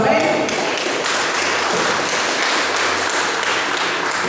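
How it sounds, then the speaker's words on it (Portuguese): A church congregation applauds its pastor during an evening family service, a steady wash of clapping from many hands filling the room at moderate volume with voices mixed in. "E a igreja dá uma salva de palmas para a nossa pastora."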